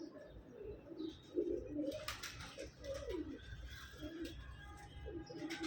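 Quiet, low cooing of a teddy pigeon repeats several times, soft throaty calls close by over faint background noise.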